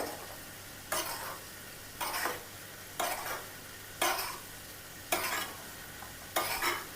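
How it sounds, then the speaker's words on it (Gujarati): Sugar tempering (vaghar) for nylon khaman sizzles steadily in a pan, with six regular stirring strokes about a second apart cutting through the constant frying hiss, close and alone. "નાયલોન ખમણ ઉપર આ રીતના જ વઘાર કરવામાં આવતો હોય છે ખાંડવાળો"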